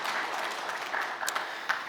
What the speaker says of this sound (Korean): 귀한 찬양 받으신 하나님께 감사와 찬양의 박수를 드리겠습니다.